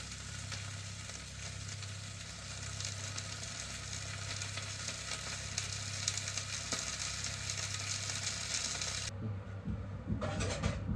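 Shallot and tomato caramelizing in a hot pan give a steady, dense sizzle and crackle throughout, close and loud, with a low hum underneath, easing off briefly near the end before flaring again.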